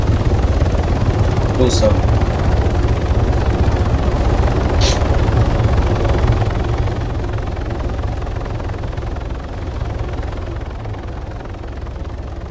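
A police helicopter's loud, constant rotor drone in a video game fills the scene, slowly fading as it moves away, with brief German speech over it.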